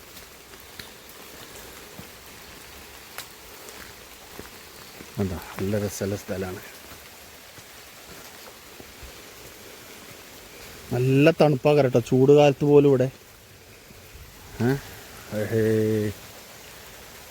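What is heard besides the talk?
water flowing from a pond under trees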